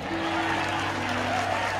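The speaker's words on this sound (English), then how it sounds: "Once again, clap for Catherine Mullins" Audience applause fills a large tent at a live worship gathering in Winston-Salem, a steady dense wash of clapping from a crowd that stays loud and even throughout, with a faint hum underneath.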